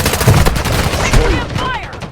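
Gunfire in the mobile shooter Warzone Mobile, repeated loud automatic bursts overlapping one another, with shouted voices heard among the shots.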